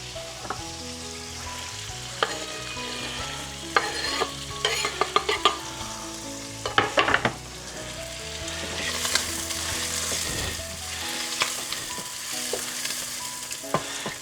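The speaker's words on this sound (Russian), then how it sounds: "Совсем слегка мы пережарим куриные кусочки." Chicken pieces sizzle and crackle steadily in a hot pan, with bursts of clattering as the pieces are stirred and turned; no one speaks.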